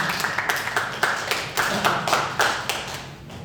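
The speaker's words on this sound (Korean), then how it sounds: "박수 한번 쳐도 돼요." A Korean church congregation claps during an early-morning sermon. The clapping comes in a loose, fairly rhythmic run of distinct claps, moderately loud, fading slightly at the end.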